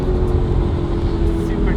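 Low, steady drone of a supercharged car engine from inside the cabin, continuous and fairly loud with a constant humming pitch and no clear revving.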